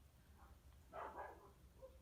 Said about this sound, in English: and now my dog's barking and my husband's trying to sleep